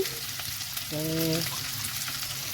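Chopped green chillies and capsicum sautéing in a pan for chili chicken, a steady close sizzle with a brief tonal hum in the middle and no talking.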